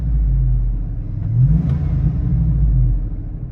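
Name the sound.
Hummer H2 6.0L Vortec engine accelerating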